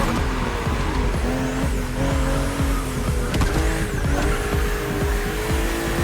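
BMW M2 and M4 race cars in The Crew Motorfest video game on a narrow, twisty road, with engines roaring close by and tires squealing repeatedly through the bends for the whole stretch.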